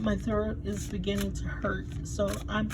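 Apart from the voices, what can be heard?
No everyday noises stand out.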